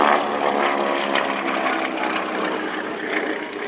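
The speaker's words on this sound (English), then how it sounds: "The three Beech 18s in this formation are all former Royal Canadian Air Force aircraft." Three former Royal Canadian Air Force Beech 18 twin-engine propeller planes flying in formation at an airshow, a loud, steady, continuous engine drone throughout, with no talking.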